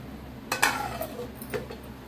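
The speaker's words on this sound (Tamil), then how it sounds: "இப்போ தட்டை போட்டு மூடிடலாம்." A plate set down over a pot of fish curry as a lid, giving a couple of close ceramic-on-metal clinks followed by a lighter tap, alone in a quiet kitchen.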